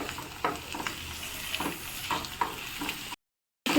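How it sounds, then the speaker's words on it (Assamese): Potato and bitter gourd being stir-fried with fish in a pan over high flame, a steady sizzle punctuated by repeated scraping stirs, close and moderately loud, with a brief dropout near the end. "হাই ফ্লেমত দি এনেদৰে লৰাই থাকিব, যাতে ইয়াত থকা পানীটো শুকাই যায়।"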